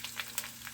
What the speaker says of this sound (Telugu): జీలకర్ర 1 స్పూను వేగుతూ ఉంటాయి